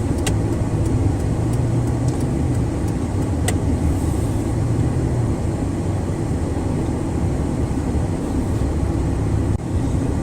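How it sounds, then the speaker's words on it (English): Steady road noise from a car driving slowly through Washington traffic, a constant engine and tyre rumble with a few faint clicks near the start and no speech. "This is Washington traffic."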